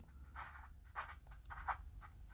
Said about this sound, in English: So what I would do is I would write down